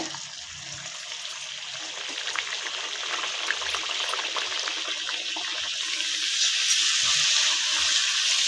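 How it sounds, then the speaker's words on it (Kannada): Jowar vada dough, North Karnataka style, slipped into hot oil, giving a steady bright bubbling hiss of deep frying that swells slightly over time, close and without talk. "ಈಗ ಎಣ್ಣೆ ಒಳಗೆ ಈ ವಡಿ ಬಿಡ್ತಾ ಇದ್ದೀನಿ"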